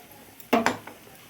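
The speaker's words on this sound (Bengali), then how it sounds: "এটাকে ভালো করে এবার কষাবো মশলাটাকে," A spatula scrapes and knocks twice against a pan while a paste of onion, garlic, ginger, and dried and green chillies is stir-fried; the clatter comes in a quick, close pair of bursts, then goes quiet.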